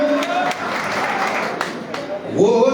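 Audience applause at a political speech in Keshod, with a dense, steady patter of clapping crowd hands throughout and a speaking voice rising over it near the end.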